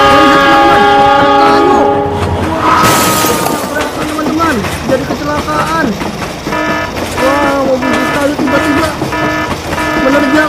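A toy train runs near a station with rolling rail clatter and repeated tonal horn toots, plus a brief crash-like burst early on, all fairly close and loud.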